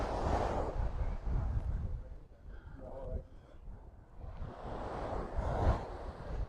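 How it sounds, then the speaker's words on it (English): Small waves wash onto the beach at Port de Soller, Mallorca, in soft surging swells that rise, ebb in the middle and build again, mixed with wind buffeting the microphone and a faint murmur of voices. "I do like the sound of the waves just rolling onto the beach."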